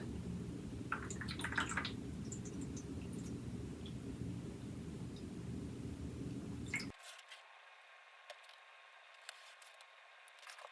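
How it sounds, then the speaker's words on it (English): Tap water poured from a pitcher into baking dishes for crème brûlée, a soft trickling and splashing that runs quietly for about seven seconds before stopping, followed by faint clinks and near silence. "I've got a pitcher of water, and it can just be tap water. It doesn't need to be hot or anything. And then I'm just going to fill them halfway up."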